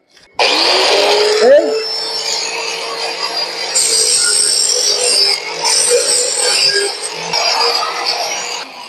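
Angle grinder with a cutting disc cutting into a plate edge, a loud, steady high-pitched whine that starts abruptly and holds for several seconds with slight shifts in pitch as the load changes; a brief spoken word comes through early on.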